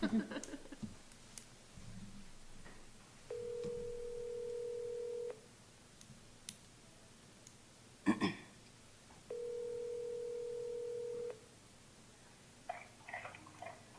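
A telephone call placed on speakerphone during a town planning and zoning commission meeting rings twice, each long steady ring separated by a pause, with room clatter and brief noises between and no speech over the rings.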